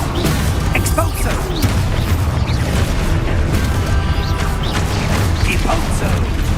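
An Expulso explosion spell goes off in Hogwarts Legacy, with dense crashing blasts and impacts running nonstop through a chaotic battle, loud and close throughout.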